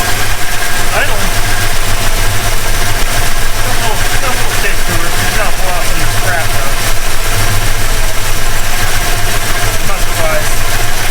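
A 1969 Plymouth Road Runner with a 440 V8, started after more than twenty years sitting dormant, idles loud and rough with a steady rumble, while someone talks over it.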